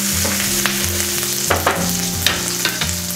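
Fennel, green chilies and grated ginger sizzle steadily in a hot pan while a spoon stirs them, with soft scrapes and clicks over the constant frying hiss and a low steady hum underneath.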